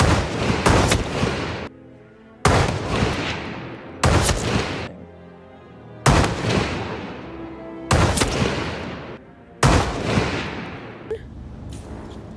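Gunshots in the VR game Hitman, fired aboard a yacht: six loud, sharp bursts spaced about two seconds apart, each decaying into a brief reverberant tail before the next.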